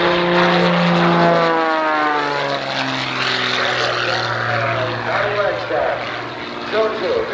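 An aerobatic airplane performs at the 1989 Oshkosh airshow, its propeller engine roaring loud and near with a steady drone that shifts in pitch as it climbs and dives. A commentator talks over it throughout.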